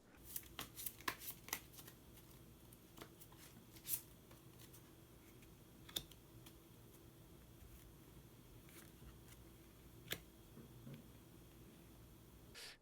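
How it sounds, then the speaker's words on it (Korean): Tarot cards are shuffled and drawn in a quiet room: soft sliding and riffling with sharp snaps and taps scattered irregularly throughout, faint and close. "히든 카드를 한 장 더 뽑아보도록 하겠습니다"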